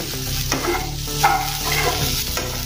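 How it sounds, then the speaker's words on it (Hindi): A spoon scrapes and stirs okra and potato frying in a pan with gram flour, giving a continuous sizzle broken by repeated scraping strokes, close up and fairly loud. "ऐसे चम्मच से हिलाते जाइए बीच बीच में"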